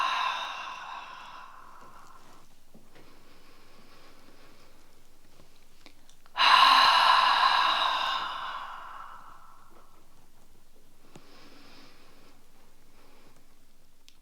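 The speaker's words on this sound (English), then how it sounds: "Soft inhale. Nice long exhale." Slow, soft breathing during a hamstring stretch: a faint inhale, then a long, audible exhale that swells suddenly and fades gradually over several seconds, close and quiet.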